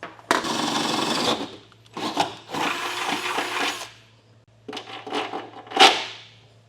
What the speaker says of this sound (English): enlarge them with a 9/16 drill bit